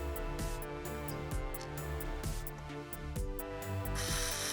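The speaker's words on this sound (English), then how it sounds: "So this is how we're going to be drilling the holes" A power drill whirs steadily while boring holes into a metal borehole pump valve, with repeated clicks and clattering knocks through the run and a brief hissing burst near the end.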